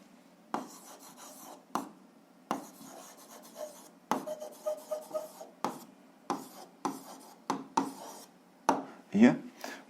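A pen writes an algebra answer on paper in short scratchy strokes, repeated bursts close by with brief pauses between them.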